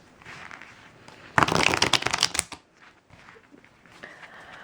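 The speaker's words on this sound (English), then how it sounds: "The reason why I'm rifle shuffling my 3rd edition here" Close rifle shuffle of a Tarot of Prague 3rd edition card deck: one loud, fluttering burst of about a second as the cards riffle together, with quiet handling noise before and after.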